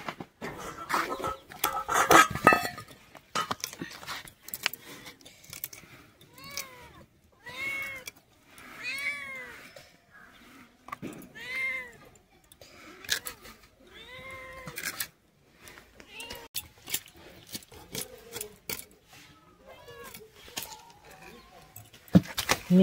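A cat at home is being offered a bowl and meows repeatedly in short rising and falling cries, scattered with pauses. The cries are fairly quiet and close.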